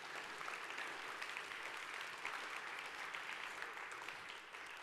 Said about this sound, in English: Students, another round of applause for those adults that have helped bring you here today.